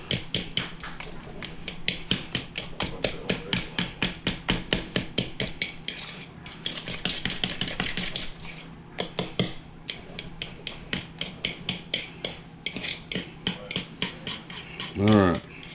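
A fork taps and scrapes rapidly against a bowl while deviled egg yolk filling is mashed smooth for keto Cajun shrimp deviled eggs, a steady run of close, sharp clicks with brief pauses.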